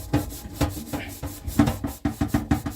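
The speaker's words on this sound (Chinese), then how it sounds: "这个就是菜瓜布上面会有砂纸" A grimy cooking pot scrubbed hard with a sandpaper-backed scouring pad, a series of rhythmic rasping strokes, close and loud, speeding up toward the end, with no talking.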